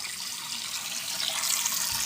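Water runs steadily from a tap into a sink, a constant hissing splash at moderate, even loudness that swells slightly near the end, with no voices.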